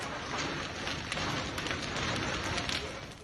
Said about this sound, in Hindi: तेज बारिश हुई है, आंधी चली है